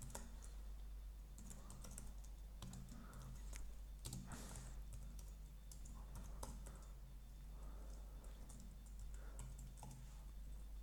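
Keys clatter on a computer keyboard in quick, irregular bursts of typing, close and fairly faint over a low steady hum.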